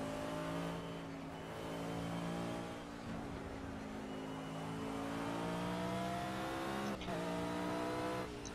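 A race car engine in Project Cars strains at high revs and bounces off its rev limiter, a buzzy steady drone with harmonic stacks that dips, climbs again and cuts sharply near the end.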